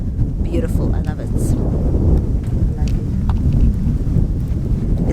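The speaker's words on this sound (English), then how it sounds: "It's a bit windy, so I hope you guys can hear me." Wind buffets the microphone outdoors beside a lake at a lakeside restaurant, a loud, continuous low rumble that gusts and swells, with brief faint sounds from the surroundings over it.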